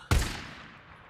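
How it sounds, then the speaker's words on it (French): A single sharp gunshot in the video game Days Gone cracks once, loud and close, then rings out into a fading echo. "J'ai entendu un tir?"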